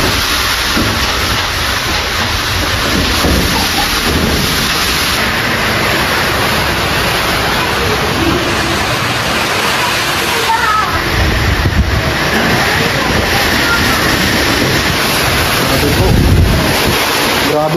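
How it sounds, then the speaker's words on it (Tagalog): Strong typhoon wind and rain in the Philippines roar close to the microphone in a continuous loud rush, buffeting and gusting without a break. "Grabe po ang lakas ng hangin at bagyo po na ito."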